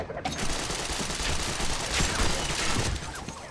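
Gunfire from the game Gotham City Impostors bursts out as a dense, continuous volley of rapid shots, loud and close, tapering off briefly at the end.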